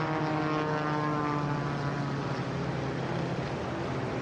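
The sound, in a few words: MXS Breitling race plane flying in Red Bull Air Race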